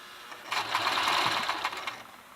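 A sewing machine stitches an infinity scarf in one steady, fairly close run of rapid mechanical whirring that lasts about a second and a half and then stops, with no voices over it.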